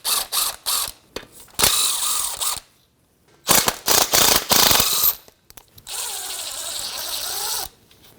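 A ratchet fitted with a 10 mm socket clicks in quick repeated bursts, close and loud, as it backs out the oil pan bolts on a 2014-2019 Toyota Corolla 1.8L four-cylinder, with short pauses between the runs of clicking.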